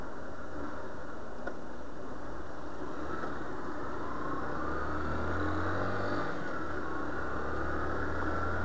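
Small motorcycle engine, freshly fitted with a new clutch, revving in the open with a rising, slightly raspy drone, steady and moderately loud without speech.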